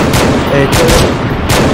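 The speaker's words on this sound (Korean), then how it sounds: "기관 총소리 겁나 크다" Loud, continuous gunfire from a video game set in Fallujah, with repeated bursts that fit machine gun fire and build into a dense barrage across the whole moment.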